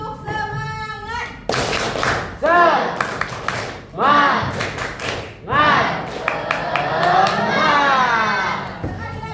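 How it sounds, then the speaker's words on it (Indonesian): Classroom of students performing the tepuk semangat clapping chant: bursts of rhythmic group claps alternate with loud chanted voices, close and energetic, following a teacher's brief spoken cue. "Kita tepuk semangat dulu ya"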